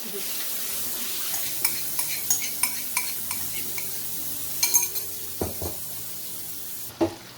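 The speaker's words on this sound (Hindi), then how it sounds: "अब हम ऐड करेंगे इसमें ये जो हमारा पेस्ट है" Spice paste going into sizzling masala for chicken karahi, with a steady frying hiss, soft scraping stirs and a few spoon-on-pot taps, close and alone without talk.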